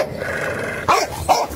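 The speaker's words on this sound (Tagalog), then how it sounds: "Ito yung aso niyo, baka kagatin ako." A dog growls low and close, then gives two sharp barks in quick succession, with nobody talking.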